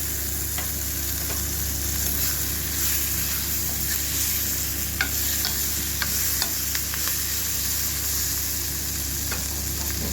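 Amla pieces frying in a pan of sizzling tempering for amla dal: a continuous close frying hiss with scattered light clicks and taps from stirring over a low steady hum, with no talking.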